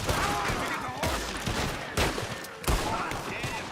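Gunshots crack out in Red Dead Redemption 2 as several sharp, loud reports at irregular intervals, each with a short echoing tail and game noise underneath.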